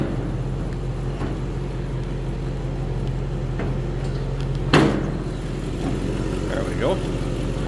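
A 1939 Cadillac Series 75 Imperial Sedan's eight-cylinder engine idles smoothly and steadily, a low hum running throughout, with someone speaking briefly over it and a short clunk midway.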